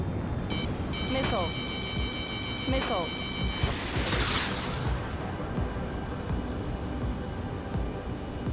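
Missile launches and explosions from the Ace Combat 7 flight combat game, with lock-on warning beeps followed by a loud whooshing blast and a rumbling tail-off amid continuous jet roar.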